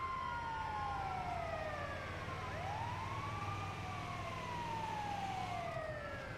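Wailing ambulance siren in Grand Theft Auto, sweeping up and down in long smooth glides over a steady engine rumble, loud and continuous with no talking.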